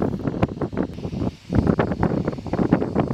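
A wind gust buffets the microphone outdoors beside an off-grid mobile home with a wind turbine, a steady low rumble and flutter that dips briefly, then surges back strong and close.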